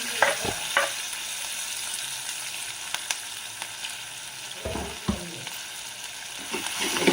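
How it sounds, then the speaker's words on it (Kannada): Onion, curry leaves and green chillies frying with golden urad and chana dal for a yogurt rasam, a continuous soft sizzle broken by several sharp scraping stirs of a spatula in the pan, no voices. "ಫ್ರೈ ಮಾಡ್ಕೊಬೇಕು"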